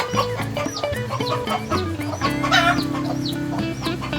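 Several farm-kept chickens cluck and squawk continuously nearby, with overlapping calls and a rooster-like crow rising briefly among them.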